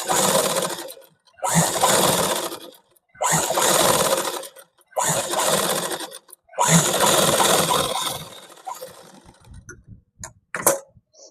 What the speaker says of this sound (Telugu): ఫోల్డ్ చేసుకొని పైనుండి ఒక టాప్ స్టిచ్ వేసుకుంటూ వచ్చేయాలి